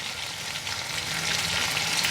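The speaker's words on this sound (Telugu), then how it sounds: "ఇప్పుడు మనం ఈ అరటి ముక్కల్లో వేస్తాం కదా ఇవి వేగుతూ ఉంటాయి" Pieces of raw banana frying in oil, giving a continuous close crackling sizzle with a faint stir, steady throughout and without speech.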